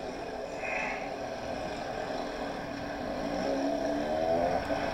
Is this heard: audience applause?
no